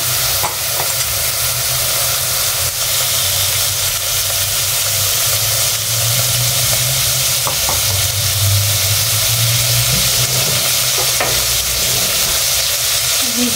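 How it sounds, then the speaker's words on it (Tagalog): Pork belly sautés in a hot pan with a loud, steady sizzle and hiss running without a break, with occasional stirring scrapes and clinks on top. "Gigisa lang natin siya guys hanggang sa mag-brownish siya or lumabas yung mga oil."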